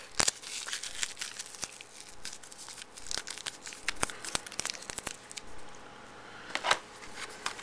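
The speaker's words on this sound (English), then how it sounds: "if I take the tape off" Tape is peeled off a plastic DVD case, giving a series of crackling, crinkling tears and snaps close by, irregular and intermittent over several seconds.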